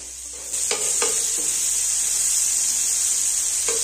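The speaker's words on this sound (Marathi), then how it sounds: "तेल गरम झालेलं आहे, तेलामध्ये आपण बनवून घेतलेला मसाला टाकू थोडासा। मसाला सगळीकडे पसरून घेऊ।" Homemade masala for masala pav goes into hot oil on a low gas flame and sizzles in a steady hiss while it is spread around. A spatula scrapes the pan a few times, and no one speaks.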